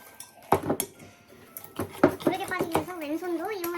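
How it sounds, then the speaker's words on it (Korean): A spoon clinks and scrapes against a bowl in repeated strokes while hand-whipping thick whipped coffee (dalgona), with a voice talking over the later part. "섞어서 저어주겠습니다"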